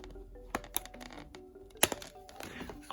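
Scissors snipping the plastic bands that hold a Mattel Prince Eric doll in its packaging, heard as close, small clicks and snaps with rustling plastic in between and a louder crack near the end.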